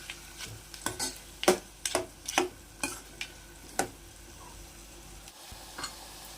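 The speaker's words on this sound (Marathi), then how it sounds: "कांदा चांगला परतून घेऊया, चांगला गुलाबी रंगावर झाला पाहिजे." Onions frying in a pan for prawn biryani give a quiet background sizzle, broken by a run of sharp spoon taps and scrapes against the pan during stirring. The clip has no speech.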